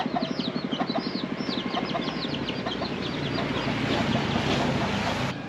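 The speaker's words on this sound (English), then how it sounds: "Oh, more roosters." Roosters crow loudly and repeatedly over a steady, noisy outdoor background in a village in Pakbeng, Laos, several calls overlapping in quick succession.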